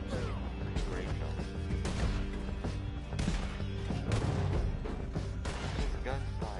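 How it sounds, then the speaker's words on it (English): Gunfire in the Red Dead Redemption 2 video game, set in the Old West, as repeated loud sharp shots and crashes over a busy background mix. "It's gunfire."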